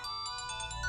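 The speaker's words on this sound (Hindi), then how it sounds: "फोन बज रहा है।" A telephone ringtone chimes briefly and moderately loud, a bright electronic tone with a steady pulsing pattern, with no voices over it.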